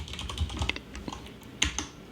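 Rapid typing on a computer keyboard while writing HTML code, with irregular bursts of close, crisp key clicks and a few louder taps, no talking.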